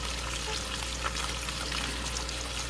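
Bacon frying in a pan, a steady dense crackle and sizzle that continues unbroken, close and fairly quiet with no voices.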